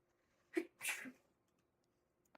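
A single close sneeze, a short sharp intake followed by a louder burst, in a quiet room.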